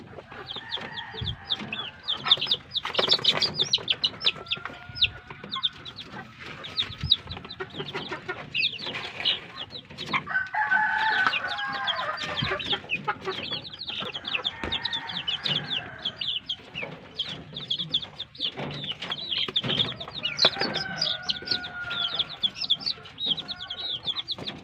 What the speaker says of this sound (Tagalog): Sa ating mga alagang sisiw, tapos na natin magpainom.